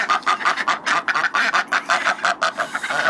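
Several ducks quack in quick, repeated bursts close by, a busy, rhythmic chorus with no talking.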